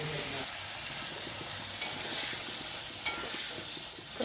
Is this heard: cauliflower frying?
yes